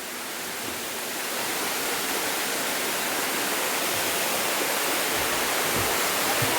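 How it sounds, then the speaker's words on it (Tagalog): A small waterfall on a family hike in Bohol gives a dense, even rush of falling water, loud and close, building slightly at the start and then holding steady with no talking. "Mini falls, mo ni mini falls."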